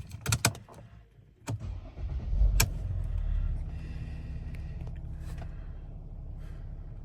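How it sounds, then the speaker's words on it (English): A 2014 Mercedes-Benz ML350 AMG Line starts up with a few clicks and a cranking catch, then settles into a steady low idle rumble that continues close by to the end, with no talk. "We'll just start the car so you can see there's no warnings."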